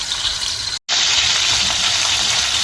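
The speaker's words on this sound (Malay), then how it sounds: "kita goreng agak-agak dia macam kulit dia semua dah masak kita angkat" Loud, steady sizzling of chicken frying in hot oil, with a brief cut to silence near the start before the crackling hiss resumes.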